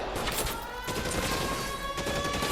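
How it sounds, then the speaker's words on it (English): A Tommy gun fires in the video game L.A. Noire, a rapid burst of gunfire mixed with echoing shots in a steady, dense volley. "we'll get the Tommy gun."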